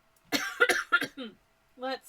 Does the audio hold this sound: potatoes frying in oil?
no